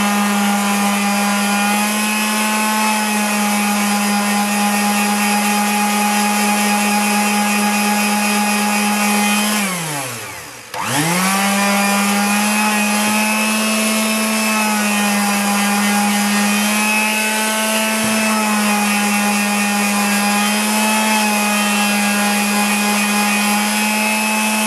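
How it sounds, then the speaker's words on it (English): A small handheld power sander, held upside down, smooths material for an Agfa Clack pinhole camera conversion. Its loud, steady motor whine runs close throughout, dipping briefly as it slows and stops midway before spinning back up. "I like to sand it down nice and smooth. So I just take a little sander here"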